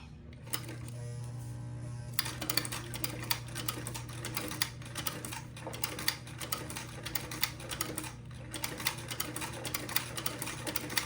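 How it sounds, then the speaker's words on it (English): A sewing machine stitches fabric for a baby diaper shirt and bloomers, running in a fast steady rapid ticking rhythm after a brief quieter start, close by and with no one talking. "drop my presser foot, and then begin to sew"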